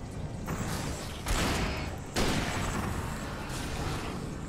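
Gunfire in the horror game Alan Wake comes as a dense, sustained barrage, loud shots crashing over a constant noisy din with a few heavier blasts standing out.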